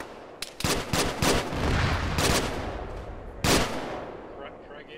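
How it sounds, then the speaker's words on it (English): Frag grenades thrown into a bunker in a military video game detonate as a string of sharp, heavy blasts, several close together and another a second later, amid gunfire and voices. "Alright, I'm throwing some frags in"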